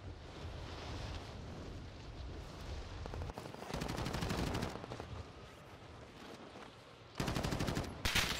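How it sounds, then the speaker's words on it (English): Rapid machine-gun bursts and scattered gunshots ring out in the Call of Duty: Modern Warfare video game, loud and continuous, with crackling volleys over windy rumble and heavier bursts toward the end. "Taking fire over here. Taking shots."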